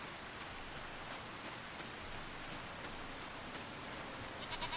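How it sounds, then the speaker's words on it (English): Steady hissing rain in Farming Simulator 25, an even wash of falling drops at moderate volume, with a faint goat bleat near the end. "Oh, there's the rain, beautiful rain."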